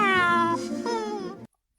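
A cartoon cat meows in an animated show, one long drawn-out mew with a clear falling pitch and a short second tail, near and loud and alone before it cuts to silence.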